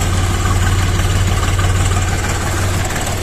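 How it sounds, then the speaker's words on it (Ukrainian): A Kentavr 244SDX mini tractor's 1620cc YDM engine idling nearby, a loud, steady low rumble with an even, fast throb and no voices. "Так, це я завів 1620 см кубічних. YDM."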